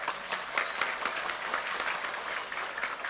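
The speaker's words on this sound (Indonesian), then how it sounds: "Tepuk tangan untuk NU." Dense, steady audience applause at an Islamic religious talk, a continuous wash of many hands clapping at moderate volume with no clear gaps.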